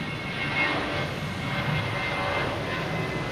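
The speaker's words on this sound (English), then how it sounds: "But first we have JetBlue taking off here." JetBlue airliner taking off at Boston Logan Airport in the evening, a steady broad engine roar at moderate distance, holding even through the whole stretch with no voices.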